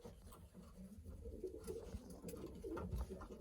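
Racing pigeons in a young-bird loft coo steadily and softly, with a low continuous murmur of several birds close by and no talking.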